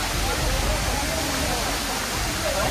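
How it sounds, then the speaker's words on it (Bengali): Khaiyachhara waterfall in Mirsharai, Chittagong, rushes loudly and close in a continuous heavy roar, with voices faintly audible beneath the water. "আমরা আলহামদুলিল্লাহ প্রথম ঝর্ণাটা চলে আসছি"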